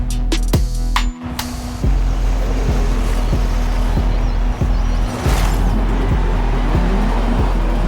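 A car lapping a stadium track in Forza Horizon 5, with a loud, continuous engine drone that rises and shifts through gear changes, heard up close without talk.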